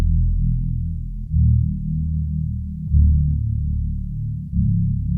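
A loud synth saw bass from a hip-hop beat, heavy and low, plays alone in sustained notes that change about every second and a half, with no drums or voices.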